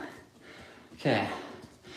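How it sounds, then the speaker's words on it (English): A person clears their throat once, a short, fairly loud rasping burst against quiet indoor background noise during a bike rebuild. "Clearing my throat."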